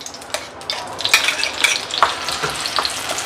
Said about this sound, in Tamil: எண்ணெய் சூடானதும் அதை இது அரைச்சி வச்சுருந்தோம் இல்லையா, வெங்காயம், இஞ்சி, பூண்டு அந்த பேஸ்ட்டை வந்து இதில் சேர்க்கணும்.